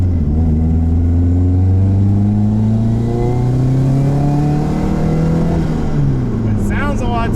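A 1990s car engine runs loud and close on a test drive, rising and falling through revs as it accelerates and shifts, with a steady rumbling drone throughout.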